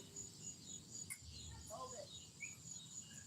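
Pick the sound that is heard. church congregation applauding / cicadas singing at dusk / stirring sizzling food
cicadas singing at dusk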